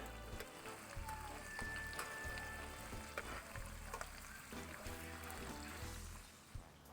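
Quail sizzling in butter in a pan over an open fire, a dense, continuous frying hiss with scattered crackles and low rumbling from the flames, heard up close and fairly quiet.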